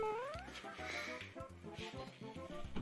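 A cat meows loudly several times in short, close calls, with a rising tone at the start and some background sound underneath.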